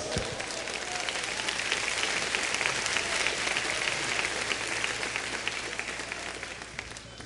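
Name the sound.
church congregation applauding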